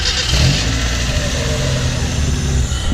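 A Miata-engined kart, running on an old hose with a temporary patch, fires up and revs loudly and continuously close by, its engine note rising and holding steady throughout.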